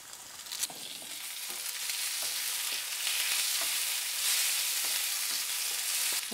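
Asafoetida, curry leaves and tomato crackle in hot oil for a masoor dal tadka, a steady bright sizzle with a few spatters and stirring clicks, close and continuous, no voices.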